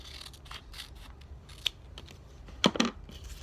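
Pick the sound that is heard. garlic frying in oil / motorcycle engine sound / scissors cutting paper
scissors cutting paper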